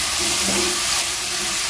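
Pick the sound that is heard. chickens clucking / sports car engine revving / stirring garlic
stirring garlic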